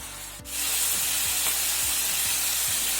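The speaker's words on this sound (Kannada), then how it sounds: "ಈಗ ಫ್ರೈ ಆಗಲಿ ಒಂದು ಸೈಡ್." Chicken pieces for butter chicken sizzle and fry in a pan with a steady broadband hiss, which begins abruptly and continues loud and close. Short scraping stirs sound at intervals, and no one speaks.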